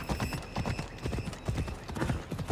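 Steady horse hooves clip-clop at a walking rhythm in the video game Assassin's Creed Odyssey, close and fairly loud, with a faint voice underneath.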